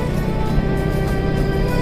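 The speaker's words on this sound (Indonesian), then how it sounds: "Nah, mobil box seperti ini lewat sini ya" A box truck rolls past on a road beside a gas pipeline route near an elementary school, its engine a steady low rumble that stays close and constant throughout, with no voices.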